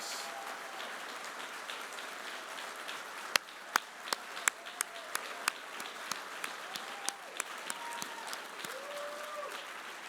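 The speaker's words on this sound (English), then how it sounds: "Let's give them a round of applause." Audience at a union legislative-political conference applauding in a large hall, a soft continuous patter of many hands with sharper individual claps popping out near the front and faint voices underneath.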